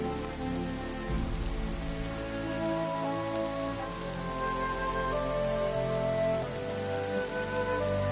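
Steady, dense rain falls in the video game Horizon Zero Dawn, a constant close patter running the whole way through with a faint tonal bed beneath it.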